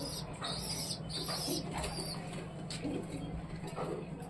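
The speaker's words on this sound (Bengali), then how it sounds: "এই হচ্ছে আমার পায়রার খোপ," Pigeons stirring inside a newly built pigeon coop, with steady rustling and bursts of wing flapping, plus possible soft cooing, close by with no talk.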